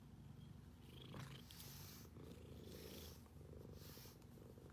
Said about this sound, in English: Hear him purring? He's just a happy cat.